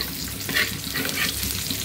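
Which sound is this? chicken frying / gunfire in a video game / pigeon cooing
chicken frying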